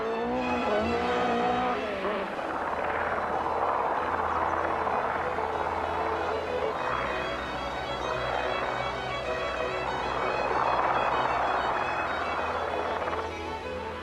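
Toyota rally cars racing on asphalt stages, engines roaring continuously with rising and falling revs and tire noise, loud and sustained, no speech.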